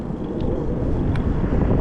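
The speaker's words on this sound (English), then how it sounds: "Very, very windy." Strong wind buffets the microphone during an e-bike ride on a cold day, a loud, low, continuous rumble that covers the whole moment, with no talking.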